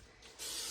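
A short burst of spray mists over the top of a towel-covered bowl of sourdough, starting about halfway through as a soft, close hiss after a quiet lead-in.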